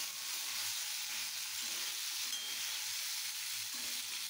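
Pasta fries lightly in oil in a wok, a faint, even sizzle and hiss that runs without a break, with a few soft low knocks underneath and no talking.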